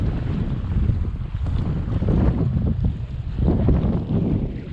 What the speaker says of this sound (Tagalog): dahil malakas masyado ang hangin